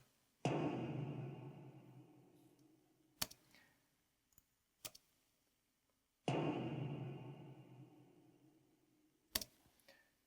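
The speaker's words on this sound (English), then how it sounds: "the final piece of our drum kit here is this big kick, which is just one single kick drum hit" Two heavy booming layered kick drum and timpani hits with long decaying tails, spaced several seconds apart, with faint clicks and ticks scattered between them.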